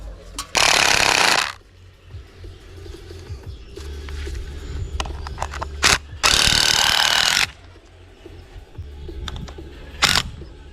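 A compact mini impact driver drives sturdy screws into timber during roof work on a house build. It gives two loud, sustained rattling bursts of about a second each, with a few sharp short hits in between, over low background noise.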